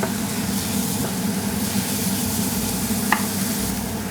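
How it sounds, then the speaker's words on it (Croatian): Bacon and onion frying in lard in a pan make a dense, continuous close sizzle, loud and even throughout, with a faint scrape or two from stirring and no talking. "onda ću unutra dodati ovu slaninu"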